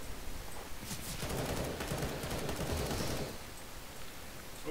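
Dense, continuous rattle of video game gunfire, a sustained fusillade of rapid shots blending into a noisy wash at steady loudness, with no talking.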